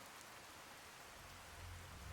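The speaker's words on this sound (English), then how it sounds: "Suddenly rain noises." Rain falling in the Fallout video game wasteland, a steady soft hiss of rainfall with a low rumble rising toward the end, quiet and continuous with no voices.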